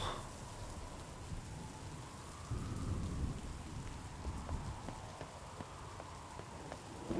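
Steady rain pours in the video game Nier Reincarnation, a dense close hiss with a low thunder rumble swelling in the middle of the stretch, constant and moderately loud, without voices.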